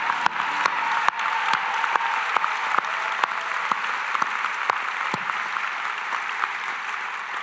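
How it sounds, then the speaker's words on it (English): Audience at a dental school white coat ceremony applauding steadily for several seconds, dense even clapping with a few sharper close claps standing out. "So let's just give everybody a round of applause again for those white coats."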